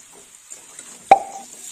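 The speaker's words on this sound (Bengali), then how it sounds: "দিয়ে দিলাম সবজি" Chopped potato, beans, carrot and eggplant dropped into a pan, landing as a single soft plop with a short wet thud, against a quiet background.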